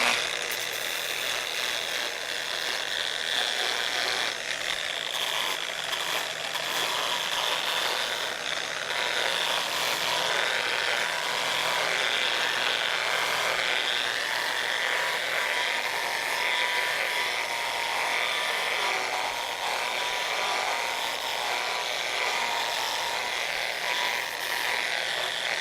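Steady sanding of a forged steel French repoussé stake fuller with 320 grit paper, a continuous bright hissing rasp that holds an even, close level throughout with a faint motor-like hum beneath.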